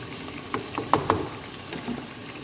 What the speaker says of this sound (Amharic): ሳሎናችን በዚህ መልኩ እየበሰለ ነው።